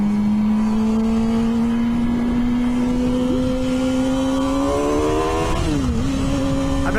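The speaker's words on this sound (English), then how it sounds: "I bet it's that Camaro" A Chevrolet Camaro's engine drones steadily as it drives by, its pitch slowly climbing and then dipping briefly near the end, loud and close with no talking.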